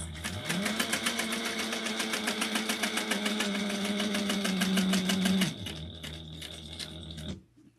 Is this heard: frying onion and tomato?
no